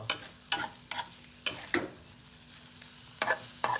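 Coconut milk is stirred into pork in a pot, heard as a series of soft scraping and clinking stirs with light bubbling between them, close and fairly quiet.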